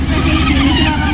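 A remote-control Tesla toy car drives across an off-road mud track, its electric motor giving a loud, steady whirring drone up close.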